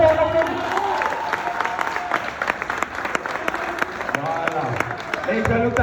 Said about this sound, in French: retrouver la star Roman par applaudissement